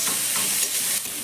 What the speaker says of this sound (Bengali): পেঁয়াজ আর ক্যাপসিকামটাকে একটু নাড়াচাড়া করে হালকা করে একটু ভেজে নিতে হবে